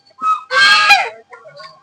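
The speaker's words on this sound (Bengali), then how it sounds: "দেখুন এই যে এতগুলো রাজহাঁস আছে, ওদের মধ্যে আমরা ঢুকে গেছি অলরেডি।" A flock of domestic geese honks loudly at close range, with a short call followed by a longer burst of overlapping harsh honks, then quieter scattered calls trailing off.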